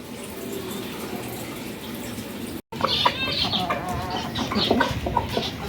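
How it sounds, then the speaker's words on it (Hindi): Hens cluck on a rooftop before feeding, a busy chorus of close, repeated clucks and squawks over a background wash like running water, after a brief cut. "अब हम अपनी मुर्गियों को देंगे वो खाना जो हम इनके लिए बना के लाए हैं"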